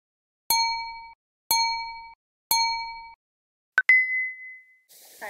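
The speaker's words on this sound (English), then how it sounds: "I'm gonna get the timer started" A workout interval timer sounds three evenly spaced bell-like dings about a second apart, each ringing out cleanly, followed by a sharper higher electronic tone and a brief rustle at the end; no talking.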